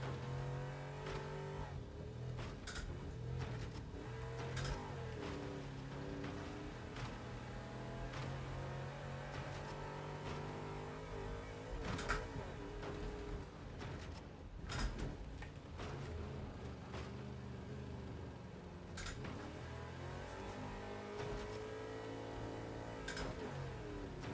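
Wreckfest 2 racing game audio: a car engine revving and droning continuously, punctuated by several sharp metallic crash and impact bursts, loud and busy with no talk.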